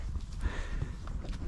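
Hooves of a Mustang horse clip-clop at a walk, a steady uneven rhythm of muffled thuds close by, with no talking.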